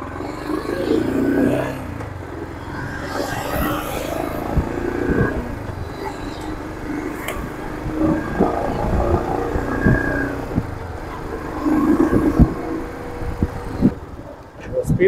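A Royal Enfield Scram 440 motorcycle, a 440cc six-speed, pulling away in first gear, its engine note rising and falling under someone talking steadily, with wind rumble throughout.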